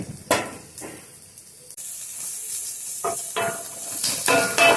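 Onions hitting hot oil in a pan for a veg jalfrezi set up a building sizzle, with a few sharp bursts and stirring scrapes over steady hissing frying, close and fairly loud.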